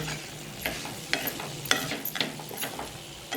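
Chopped onion with boiled potato and coriander being sautéed in a pan, a soft steady sizzle broken by repeated scraping stirs of a spoon against the pan, close and fairly quiet.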